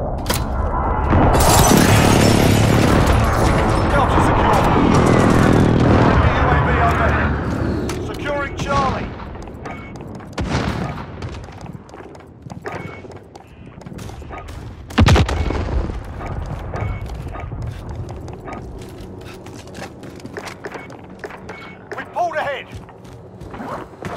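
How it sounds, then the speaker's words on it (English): Precision airstrike in Call of Duty: Modern Warfare ground war: a long, loud roar of rolling explosions and debris for several seconds, followed by scattered gunfire and a later single boom, with a voice calling out over the combat. "Precision airstrike inbound."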